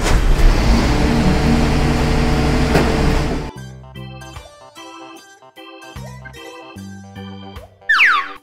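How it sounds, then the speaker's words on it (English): A toy green garbage truck gives off a loud, rumbling engine-like noise for about three seconds, then stops, leaving a series of xylophone notes tapped with a wooden hammer and a short chirp at the end. "Green garbage truck."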